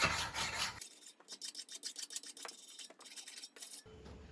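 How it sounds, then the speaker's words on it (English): A hand-forged frizzen spring is filed with steady rasping strokes, about a dozen rhythmic scrapes in quick succession, close and clear with no talking. "I got it filed good"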